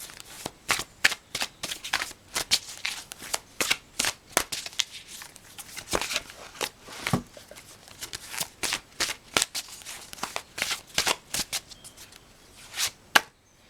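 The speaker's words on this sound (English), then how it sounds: "Okay, so I'm gonna pull a card" A tarot deck is shuffled by hand up close in sharp, rapid, uneven bursts of card slaps and riffles that go on for several seconds, heard alone without talk.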